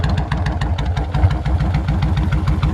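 A 2002 Kawasaki Indian Drifter motorcycle with fuel injection idles close by, giving a steady, loud, low rhythmic engine throb with an even pulsing beat and no talk.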